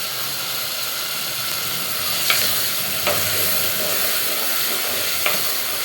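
Brinjal and tomato frying in oil in a pan make a loud, continuous sizzle and hiss, close up, with a few faint spatula clicks and no voices.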